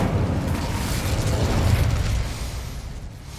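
Incendio fire spell cast in Hogwarts Legacy, a loud sustained roaring whoosh of flame with low rumble, fading over a few seconds.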